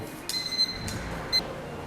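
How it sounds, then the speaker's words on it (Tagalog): A kitchen timer alarm goes off while fougasse bakes, sounding in a few short, bright beeping bursts against a quiet background. "nag-alarm na yung ating timer"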